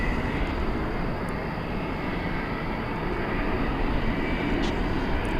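Airplane flying over DFW Airport at night, a steady loud broadband jet engine roar throughout, fairly close and constant.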